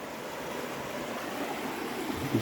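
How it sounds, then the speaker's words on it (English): River water flows steadily over a bed of big river rocks, a continuous close rushing wash with no voices. "The water flows through from there. It's just a bunch of big river rock."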